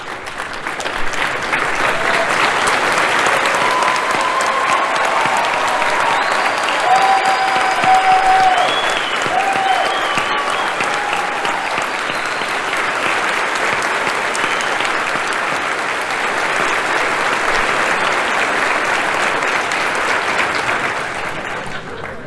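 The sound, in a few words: convention crowd applauding Pastor Mike Aus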